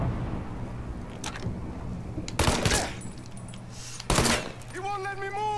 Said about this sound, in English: 45 pistol and a Tommy gun.